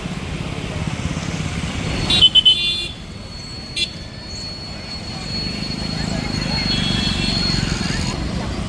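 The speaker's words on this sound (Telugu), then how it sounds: "దక్షిణ గోపురం మట్టుగా ఫుల్ ట్రాఫిక్ జామ్" A traffic jam near the south gopuram of a temple at Tiruvannamalai, with a continuous drone of idling and slow-moving vehicle engines and a brief high tonal burst partway through.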